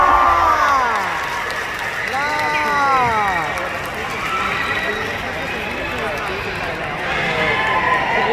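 Audience at a Thai event for the couple Emmy and Cher-Aem screams and cheers with steady applause, a loud continuous wash of high shrieks and clapping lasting several seconds.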